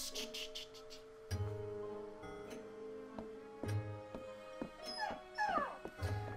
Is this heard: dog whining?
yes